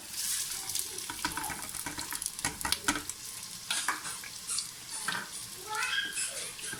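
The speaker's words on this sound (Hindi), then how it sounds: "अब मैं इसमें, ये मेरे पास जो कटे हुए प्याज हैं मैं इसमें सारे ऐड कर दूंगा।" Chopped onions go into hot oil in a clay pot and sizzle steadily, with stirring scrapes and clatter over the frying hiss, and no talking.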